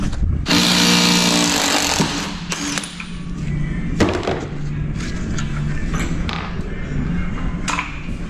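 A power tool undoes suspension bolts on a Mk4 Golf, a loud close whirring burst of about a second and a half at the start, then quieter clanks and short tool bursts follow.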